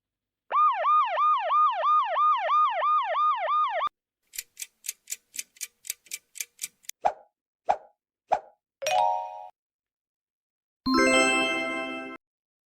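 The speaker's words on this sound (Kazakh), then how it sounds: "Я, бұл жедел жәрдем көлігі." An ambulance siren from a children's city-transport quiz wails in a fast, steady up-and-down cycle for about three seconds, loud and alone, followed by a run of short dings and plops.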